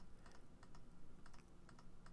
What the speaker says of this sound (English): I'm holding on the Alt key and clicking